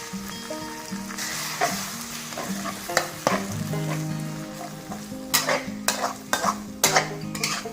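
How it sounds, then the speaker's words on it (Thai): Rice with egg and minced pork being stir-fried in a wok, a steady sizzle with repeated scraping and tossing strokes of the spatula, growing sharper and more frequent toward the end. "คั่วไปเรื่อยนะครับผมให้สุกครับ"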